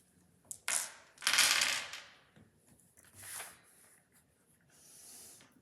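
Dice tumble and clatter on a hard surface during a roll-and-save money challenge game, several separate rattling bursts close by, with quieter pauses between rolls and no talking.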